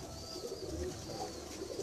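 Low, soft cooing of high-flyer pigeons murmurs steadily through the clip, with a faint higher hiss in the background and no voices.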